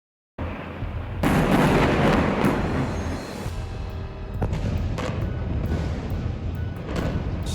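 Heavy booming blasts from a missile strike roll through a played clip, a big sustained rumble followed by further thuds and crackling debris, with no one talking over it.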